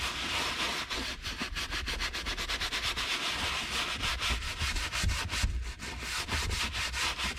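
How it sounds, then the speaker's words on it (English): Small detail brush scrubbing a perforated leather car seat near the seatbelt latch, giving a steady rapid back-and-forth rasp heard close up and alone. "I'm gonna go back to my smaller detail brush and get right down in here where the seatbelt latch is"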